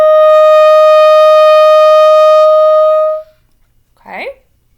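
A clarinet sounds a clear, steady high F held for about three seconds after an overblow with the thumb key, then stops abruptly, followed by a brief spoken word.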